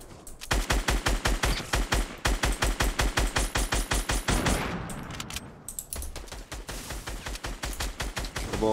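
Rapid automatic gunfire from a Fortnite Battle Royale match rattles in long, tightly spaced bursts, pausing briefly before another loud volley resumes.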